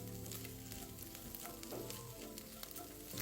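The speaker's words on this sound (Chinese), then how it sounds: "接着再将虾米也加进来一起爆香。" Dried shrimp fry in hot oil with minced shallots, giving a dense, steady sizzle and crackle that carries on unbroken with no voices.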